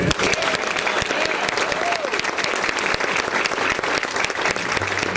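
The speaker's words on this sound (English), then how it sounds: "why don't we do a round of applause for Lisa" A retirement gathering's audience applauds for Lisa, with dense, steady clapping that fills the whole stretch at a loud, even level.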